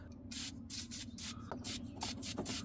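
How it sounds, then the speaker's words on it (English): Several short bursts from an aerosol can spraying penetrating oil onto a tie rod nut on a Volkswagen Jetta, hissy puffs separated by brief pauses, with faint metallic taps in between. "you can spray some penetrating oil right here where this nut goes"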